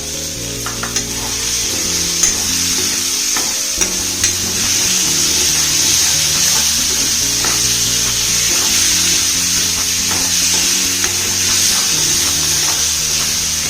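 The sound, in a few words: green peas added to a frying pan, sizzling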